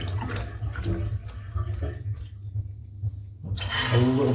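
Hot tap water pours into a shaving brush over a sink, splashing close for a couple of seconds, stopping briefly into near silence, then gushing again louder at the end.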